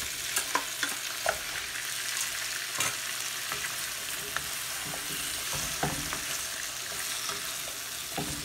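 Chopped upo (bottle gourd) hits a hot pan and sizzles steadily, with scattered clinks and scrapes of a spatula stirring the vegetables, moderately quiet and close with no voices.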